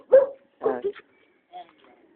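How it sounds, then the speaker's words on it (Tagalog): A dog gives a few short yips and whimpering barks in two quick bursts, then a fainter one, fairly close in a quiet outdoor setting. "Ay, may aso."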